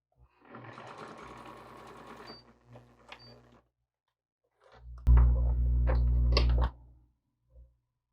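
A sewing machine stitches a French seam, whirring in two steady runs: a lighter stretch first, then a louder, closer burst after a short pause, with a faint clunk at the end.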